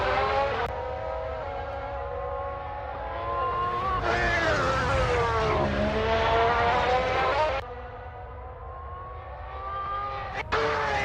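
A Formula 1 race car at pre-season testing sweeps through the last corner, its high engine note loud and close, rising and falling with throttle and gear changes before fading away.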